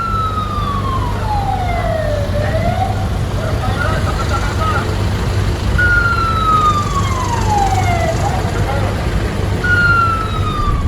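A wailing siren rises and falls in long sweeps over steady traffic rumble, fairly close and loud, with no talking.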